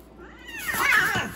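Two cats yowl and caterwaul at each other in a rising, tense exchange on the verge of a fight, the drawn-out growling cries swelling loud and close over about a second.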